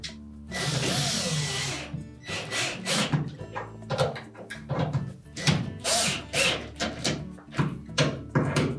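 A screw is driven into the door hinge of a Whirlpool refrigerator, heard as a burst of loud driver whir followed by a series of short, close, rhythmic mechanical pulses and thunks, with no talking.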